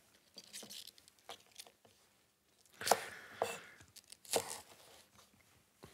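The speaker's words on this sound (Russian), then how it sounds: "Я его нарезаю, посмотрите, вот так, вдоль, наискосок." A knife slices diagonally through young green pea pods on a cutting board, a series of soft, close, irregular crisp cuts and taps with a few louder snaps.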